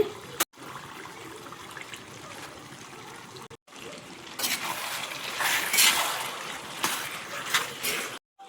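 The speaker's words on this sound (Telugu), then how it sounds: "గోంగూర వేసుకొని ఒక 1/2 గ్లాసు నీళ్లు పోసుకోవాలండి" Half a glass of water poured into a pot of gongura chicken, a hissing splashing pour that swells in the second half after a few clicks and short gaps, with no talk.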